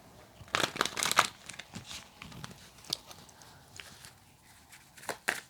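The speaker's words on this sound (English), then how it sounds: "Let me just give the cards one more shuffle." A deck of tarot cards is shuffled by hand, giving soft, irregular riffles, flicks and light taps. The sounds are faint and close, spread unevenly across several seconds with quiet gaps between bursts.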